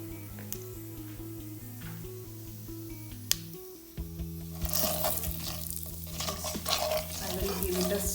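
Salt, chili powder and turmeric are stirred in a pan for vada pav; a low hum gives way to a scrape, then loud, continuous frying and sizzling with spoon stirring near the microphone.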